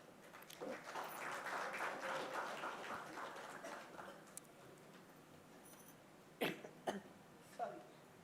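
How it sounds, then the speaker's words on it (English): Audience applause at the Devi Awards 2025 ceremony as a guest is welcomed on stage, a broad patter of clapping over the first few seconds that thins out, followed by a few scattered coughs and voices. "I'd like to invite Dr. Preetha Reddy with a round of applause."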